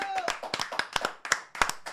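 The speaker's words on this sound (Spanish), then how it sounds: "nos pedimos con un aplauso para Eli." A few people clap on a live stream, separate sharp claps in an uneven rhythm, close and fairly quiet, mixed with voices talking over them.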